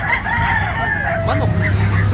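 Native chickens at a poultry buying spot crow and cluck loudly and close by, with a drawn-out rooster crow over a steady low background hum.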